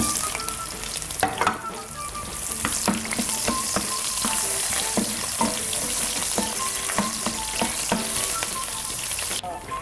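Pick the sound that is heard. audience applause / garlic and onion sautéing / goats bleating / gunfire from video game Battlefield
garlic and onion sautéing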